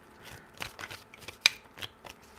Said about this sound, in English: 3 shuffles.